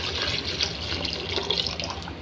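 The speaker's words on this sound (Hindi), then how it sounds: "ये मैंने यखनी वाला पानी शामिल कर दिया है" Stock water poured into a pan of fried vegetables while making chicken and vegetable egg fried rice, a steady close splashing and gushing rush of liquid with no talking.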